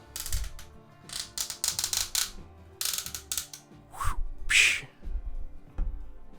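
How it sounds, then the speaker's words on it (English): Ratcheting waist swivel joint of a Legacy Transformers MotorMaster action figure, a series of loud, close plastic clicking bursts in uneven runs with short pauses between turns. "He's not going anywhere on those ratchets."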